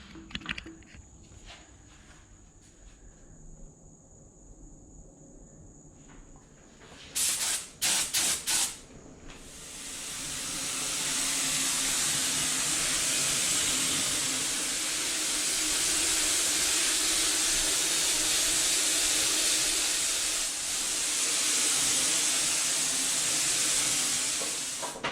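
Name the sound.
spray gun spraying latex paint at about 50 psi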